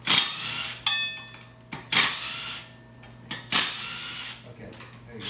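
A power tool unbolting an engine flex plate from a GM LS engine, heard as several short bursts of whirring and rattling separated by brief pauses, close and fairly loud.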